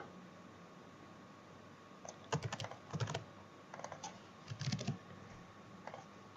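Bursts of typing on a computer keyboard while writing C++ code, quick clusters of soft key clicks separated by pauses, close but quiet over faint background hiss, with no voices.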